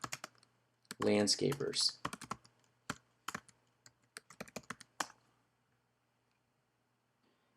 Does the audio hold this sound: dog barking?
no